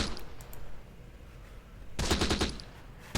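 Machine gun fire traded between American machine gun units and defenders in the WWII strategy game Close Combat: The Bloody First, a low rumble of distant shots before a loud, dense burst of rapid fire in the latter half.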